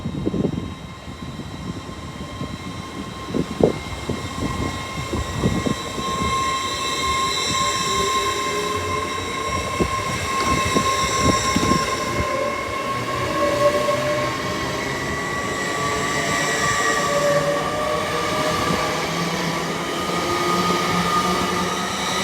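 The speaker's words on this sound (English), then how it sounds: "The 1146 LNER Azuma from London King's Cross to Edinburgh" An LNER Azuma train passes through Newark Northgate station, opening with rattling clatter, then a long, steady rolling rumble with whining tones that slowly rise and fade, heard alone without voices.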